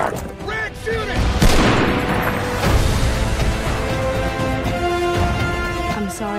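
Gunfire and explosions from a World War II battle in the Call of Duty WW2 game trailer, a dense continuous roar of blasts and shots with music and voices mixed in throughout.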